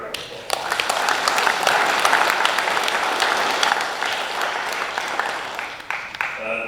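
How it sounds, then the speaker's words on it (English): Sustained, loud applause from a banquet audience at the SaltCity Racing 2024 awards banquet at the 1861 Club, a dense wash of clapping that holds steady for several seconds before thinning out near the end. "let's give the Murphy Tractor a big round of applause"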